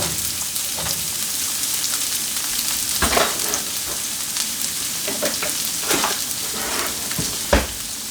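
Onion and tomato fry in a pan that gets shaken, giving a continuous close sizzle with bursts of crackle and a few soft knocks and scrapes of the pan moving.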